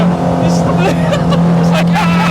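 A cammed, carbureted Peugeot 205 GTi stage rally car roars loud and close at full throttle, engine note rising through the revs, while people talk excitedly over it.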